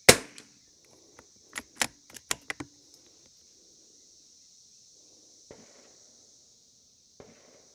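Rifle shots at a shooting range: sharp, short cracks in an uneven cluster near the start, then a couple of fainter isolated pops, with quiet stretches between them.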